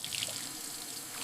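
Water runs from a tap into a sink at a beach restaurant, a steady close hiss and splash with no voices.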